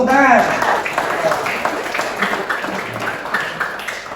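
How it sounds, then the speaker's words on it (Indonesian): Schoolchildren clap their hands in a classroom during a music lesson, a burst of scattered claps that starts right after a voice and carries on steadily at moderate loudness. "Tepuk tangan."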